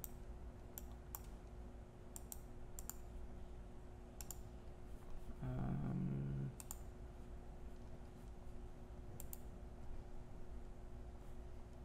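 Sparse, crisp computer mouse clicks at a desk, a handful of single taps spaced a second or two apart over a quiet background hum, with a brief louder electronic tone in the middle.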